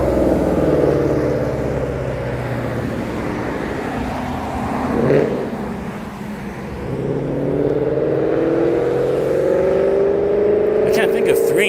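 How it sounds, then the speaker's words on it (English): A car engine hums and rises in revs close by amid roadway noise on a Saturday night, pitch sweeping upward near the end, with people talking over it. "The car sounds hungry."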